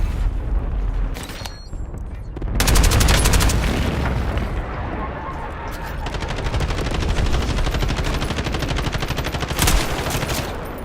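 Dense bursts of automatic gunfire and booming explosions fill a Black Ops 6 Warzone match, loud and continuous with near and distant shots layered over one another, and brief game voice lines cutting in.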